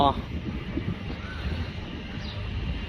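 A strong outdoor wind rumbles and buffets the microphone steadily, with someone talking throughout over the blustery roar.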